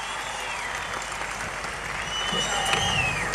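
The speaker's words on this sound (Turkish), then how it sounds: "Onu büyük bir alkış istiyorum efendim." A large stadium crowd at a Turkish Olympiad event in Erzincan applauds steadily from a distance, a broad wash of clapping with faint whistles or tones drifting over it.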